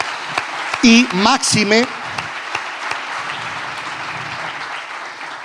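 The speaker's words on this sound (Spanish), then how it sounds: "Demos un fuerte aplauso al Señor por don José Ignacio Munilla." Applause from a festival audience for Bishop José Ignacio Munilla of Orihuela fills a living-room style gathering, a steady dense clapping wash that carries on beneath someone speaking over it.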